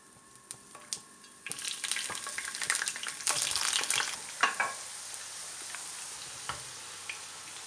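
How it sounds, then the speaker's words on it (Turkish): Olive oil sizzles and crackles in a pan as peppers fry, with scattered pops and clicks, a louder burst of frying midway, then settling down. "Şimdi sıra biberlerimizi kızartmada."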